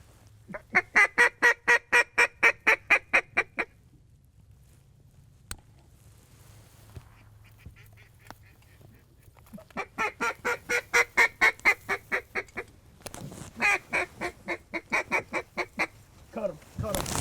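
Canada geese honking as they fly in over Reelfoot Lake during a duck hunt, bursts of rapid, repeated calls from several birds, loud and close, separated by brief quieter gaps with a low background rumble.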